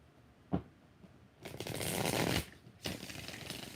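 Tarot cards are riffled and shuffled by hand: a single sharp tap, then a sustained two-second riffle, then another riffling burst, close and fairly loud with no voices.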